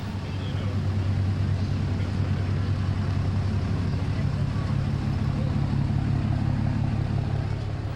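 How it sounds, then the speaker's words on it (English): Diesel trucks roll along in a Fourth of July parade with a steady, low engine rumble that holds throughout, moderately loud and unbroken. "a local truck club that supports local charities and loves to show off their diesel trucks as they are doing right now"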